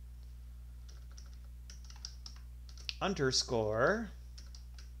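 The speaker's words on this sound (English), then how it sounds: "having issues typing today, apparently" Rapid clicking keystrokes on a computer keyboard while coding on Linux, scattered in quick bursts throughout, with someone briefly speaking near the end.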